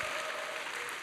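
Brief burst of group clapping from a summer camp lecture audience, fairly faint and steady for about a second.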